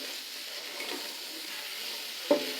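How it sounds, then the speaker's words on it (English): Kielbasa sausage fries in bacon fat in a pan with a steady, close sizzle, broken by a soft stir and one sharp clack near the end. "So I'll season these up, get these frying."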